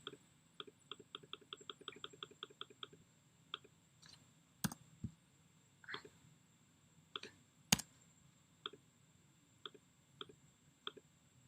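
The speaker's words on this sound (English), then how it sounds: "the way that I'm activating these is I'm clicking on them" Crisp computer mouse clicks while working with Scratch coding blocks, a quick rapid run of clicks followed by sparser single clicks and a few louder taps, close and quiet in an otherwise silent room.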